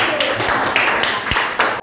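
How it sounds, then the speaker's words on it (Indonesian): A classroom of children clapping together for a presenting group, a short burst of applause with patchy, uneven claps close by, lasting under two seconds. "Tepuk tangan untuk kelompok mandiri."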